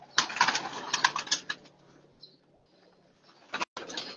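Breeder pigeons in a loft setup flutter their wings in short bursts of flapping, with soft low cooing between the bursts. The sound is close and moderately loud, then falls quiet before another flurry of wings.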